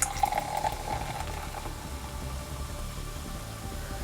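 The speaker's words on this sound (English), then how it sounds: "Alright, we're going to pour." Mtn Dew Voltage soda poured into a glass, a close, steady fizzing and bubbling hiss that starts with a brief splash and then settles into continuous carbonation crackle.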